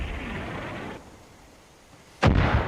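Mortar fire in Far Cry 5: a steady rumbling noise bed, then a sudden loud, sharp blast near the end that stays booming and broadband. No speech.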